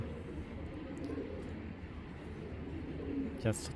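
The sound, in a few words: racing pigeons cooing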